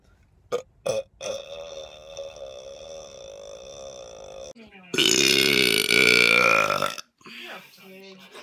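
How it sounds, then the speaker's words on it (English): Loud, prolonged human burps, a couple of short belches followed by a long drawn-out one and a final roaring burp, close and dominant, with brief speech-like sounds near the end. "You burp?"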